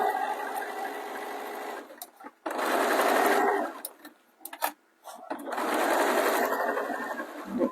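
A sewing machine stitches a seam on a small fabric swim bag with a quarter-inch allowance, a steady whirring hum in three long bursts separated by brief pauses, close and clear.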